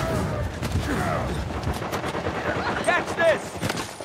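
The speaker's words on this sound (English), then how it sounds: "Who's shooting me from behind or something?" Rapid gunfire from Uncharted 4 multiplayer crackles in quick bursts under excited gamer talk, with louder shots and pings near the end.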